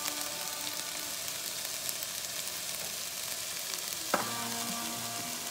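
Onions, thyme and black pepper sauté in a pan with a steady, close hiss of frying, broken by a single clunk near the end.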